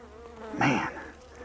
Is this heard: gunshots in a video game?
no